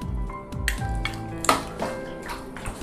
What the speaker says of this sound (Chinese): 锅中咱们加入清水，冷水咱们下入排骨